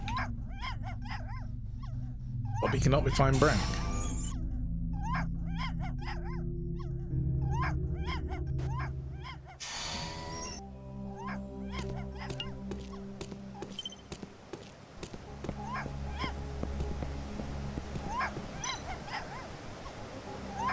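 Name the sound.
dog barking in a video game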